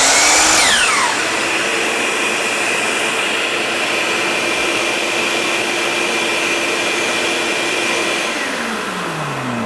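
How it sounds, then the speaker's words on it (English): A shop vacuum linked to a miter saw in a small woodworking shop switches on with a quick falling whine, then roars in a loud, steady rush before a fading tone near the end. "the vacuum kicks on automatically"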